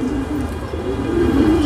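Racer pigeons in a loft give a low, continuous throaty cooing that swells slightly toward the end, with no talking over it.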